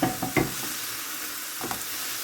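Tomatoes sizzle in an oiled pan for a frittata, a steady close hiss broken by a few sharp stirring clatters near the start and again later.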